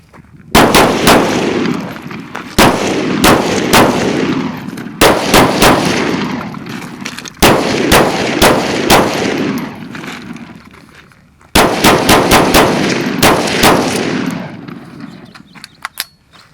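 A PSA KS-47 pistol fires Red Army Standard steel-cased ammunition in several loud, close bursts of rapid shots separated by short pauses, with echoing reports trailing after each string.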